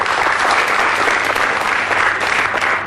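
A crowd at a business seminar applauds in a dense, loud burst of clapping that carries on evenly throughout.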